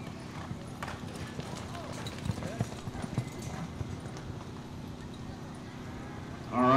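Bucking bronc pounding its hooves in a ranch rodeo arena, a steady run of dull thuds and clops under a constant crowd and announcer murmur, with a louder burst of noise at the very end.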